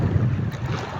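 Strong wind roars across open sea around a small fishing boat, a steady, full buffeting rush with no voices.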